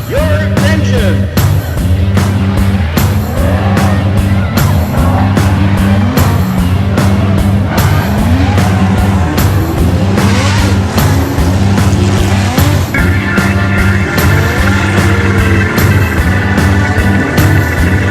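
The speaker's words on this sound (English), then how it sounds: "start your engine" A vintage racing car's engine fires up and revs hard at a racing event, loud and close, with sharp repeated throttle blips over a constant deep mechanical roar.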